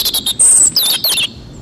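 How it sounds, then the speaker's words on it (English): A small songbird gives a quick run of bright, high chirps and trilling tweets, close and loud, in several bursts before stopping abruptly. "Robins are beautiful small birds that usually have brown feathers,"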